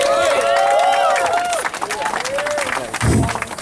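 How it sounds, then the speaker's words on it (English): Crowd applause and cheering for United in Peace, Houston, at an outdoor community gathering, dense clapping filling the space with whistles and voices shouting over it, then a brief low thump near the end. "let's clap it up for United in"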